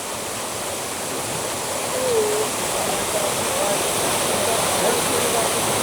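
A mountain stream in the Troodos Mountains of Cyprus rushes over stones in a steady, close roar, with a person talking faintly over the flowing water.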